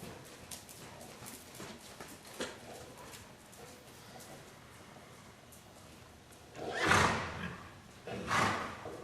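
Soft, irregular horse hoof thuds on ground, faint and distant, with a couple of louder scuffing bursts near the end.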